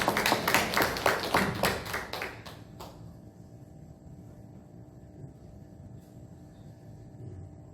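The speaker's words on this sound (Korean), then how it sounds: "박수로 맞이해 주시길 바랍니다." A short burst of audience clapping greets a seminary president arriving at a church worship service. It is loud for about three seconds, then fades to a quiet room hum.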